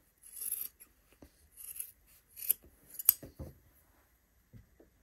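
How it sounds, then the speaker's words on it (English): Close scissors snip through fabric to trim a seam allowance while sewing a bodice, with several separate crisp cuts spaced apart against near silence. "I'm actually going to trim it down. Trim it to half of its"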